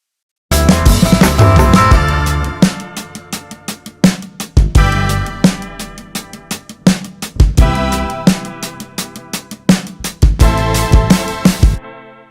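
A bright synth-pop bridge with a Juno synth, punchy, regular beats and layered chords, delay repeats trailing behind the notes, playing loud and steady with brief drops.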